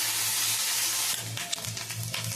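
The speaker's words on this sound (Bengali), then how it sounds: "এবার ডিমটা দিয়ে দেবো, মাছের ডিমটা দিয়ে দিয়ে আগে ডিমটাকে ভালো করে ভেজে নেব।" Fish roe fries in hot oil in a wok with a green chilli, giving a soft, close sizzle that starts as a steady hiss and then breaks into quieter crackling spatters.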